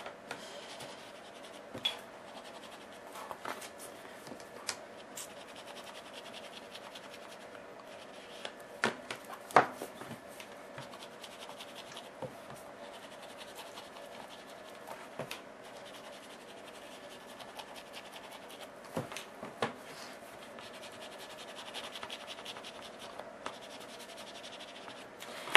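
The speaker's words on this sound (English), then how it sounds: "I'm just going to pretty up the front a little bit by putting some ink on" Ink being rubbed onto the edges of a paper journal cover, a soft, close scratching and dabbing with irregular taps and scrapes against quiet background.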